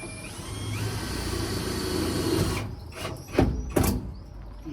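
A power screwdriver drives screws into a pigeon loft door, first a long steady whirring drive, then a few short sharp bursts as further screws are seated, close and fairly loud.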